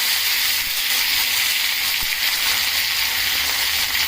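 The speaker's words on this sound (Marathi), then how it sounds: "आणि आता आपण बारीक चिरलेले टोमॅटो याच्यात घालूया" Finely chopped tomatoes dropped into hot oil tempered with mustard seeds, cumin and asafoetida, giving a loud, steady sizzle that runs unbroken throughout, with no talk.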